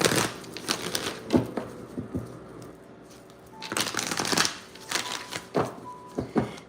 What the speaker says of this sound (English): Do a quick shuffle for Gemini.